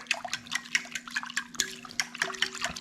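Water splashes and sloshes in a bowl while pizza dough is being hand-mixed, a close, busy run of irregular wet slaps and drips with a steady low hum underneath.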